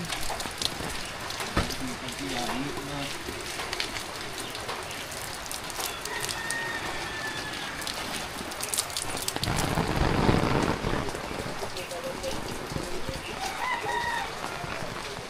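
Steady morning rain pours down, hissing on surfaces throughout, with a rooster crowing faintly in the distance and occasional voices beneath the downpour.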